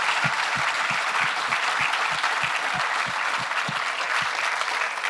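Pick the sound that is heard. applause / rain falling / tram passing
applause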